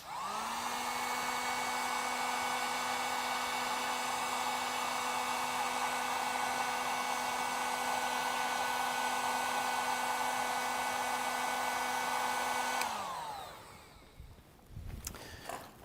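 A heat gun blows steadily as it shrinks heat shrink tubing on wiring for an off-grid power system, a loud continuous whine with a steady tone that runs for about thirteen seconds and then winds down, followed by faint handling noise.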